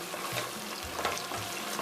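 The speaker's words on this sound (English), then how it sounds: "So now I'm cooking the tomato puree first with the onion." Steady frying sizzle with soft stirring scrapes as tomato puree and onion cook for chicken stew, a continuous crackling hiss close by, no voices.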